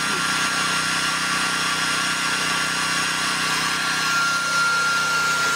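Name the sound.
Toyohama 3500i generator running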